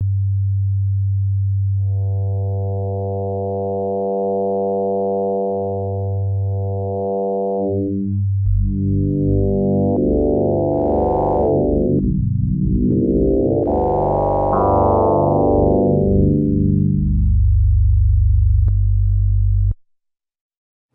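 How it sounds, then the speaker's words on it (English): A steady linear FM synthesizer tone from an ASM Hydrasynth with bright, shifting harmonics that sweep up and down, sustained alone for about twenty seconds before cutting off. "that's a pretty normal linear FM sound"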